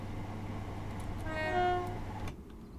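A Class 319 electric train runs in the Train Sim World game on the Midland Main Line, a steady low rumble with a two-tone horn sounding clearly for about a second before the sound cuts off.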